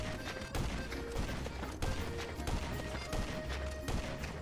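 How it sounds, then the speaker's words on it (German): Gunfire in an online army shooter game, a run of sharp, evenly spaced shots cracking over a dense, noisy battle background, fairly muffled and without talk. "Junge, 4 Schüsse."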